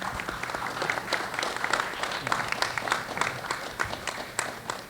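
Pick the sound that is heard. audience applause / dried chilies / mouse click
audience applause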